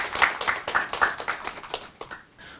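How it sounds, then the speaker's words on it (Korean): Audience at a Korean internet industry forum gives brief, light applause, a sparse scattering of individual handclaps that thins out and fades within a few seconds. "여러분 박수 한번 부탁드립니다"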